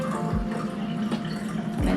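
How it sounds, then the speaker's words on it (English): Hot water from a kettle streams into a glass over half a lemon, a steady gentle pour with a low hollow tone and small glugs, close by with no voices. "And then you just pour the water over the lemon,"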